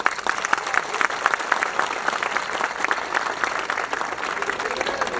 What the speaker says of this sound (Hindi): तो ताली की कड़क से एक बार बता दीजिए कि यहाँ शिवा शक्ति बैठी है